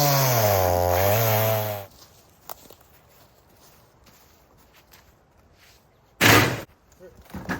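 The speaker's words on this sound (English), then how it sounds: "this massive storm blew this massive tree over, and we are cutting it up with the chainsaw" A chainsaw cuts up a massive storm-felled tree, roaring loudly with a wavering rev for about two seconds before dropping away. Quieter knocks and footsteps follow, then a second short, loud burst comes near the end.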